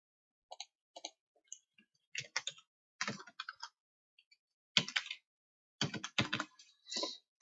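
Computer keyboard typing while entering text in CorelDraw X7, bursts of quick clicking keystrokes with short pauses between, close and clear with no talk.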